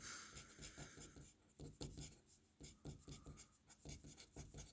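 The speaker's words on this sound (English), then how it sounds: "Actually, I'll just write it all out for you." Pen scratching out numbers on paper during math work, a quiet close-up series of short rhythmic strokes and rasps with brief pauses between figures, no talking.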